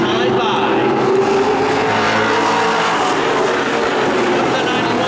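Pro stock race cars roaring around the oval at Wiscasset Speedway during a heat race, a loud continuous engine howl from the pack with a race announcer calling the action over it.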